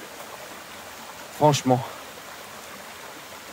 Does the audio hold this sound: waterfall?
yes